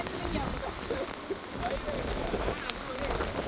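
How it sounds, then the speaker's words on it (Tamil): Heavy rain pours down on a beach, a dense, steady hiss of drops hitting the surface with scattered louder splashes throughout, while a voice speaks faintly underneath. "வெள்ளங்க அடிக்கிற பெய்கிற மழைக்கு வெள்ளம் காணாதேன்னு"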